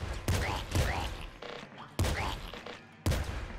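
Rapid bursts of gunfire from the roguelike shooter video game Nuclear Throne, four sharp volleys spaced about a second apart, each fading quickly, with no talking.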